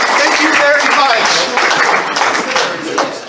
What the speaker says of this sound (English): give Chris and everybody a round of applause in the crowd